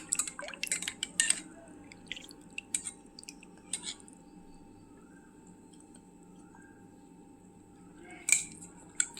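A spoon clinks and scrapes against a container while buttermilk (taak) with black salt is stirred, a few sharp taps clustered at the start and again near the end over quiet background, no talking.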